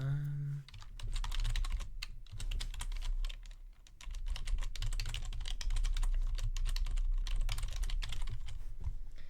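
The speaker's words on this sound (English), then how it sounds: "Keyboard sounds." Rapid, steady clicking of a computer keyboard being typed on, with a few brief pauses between bursts, close and fairly quiet.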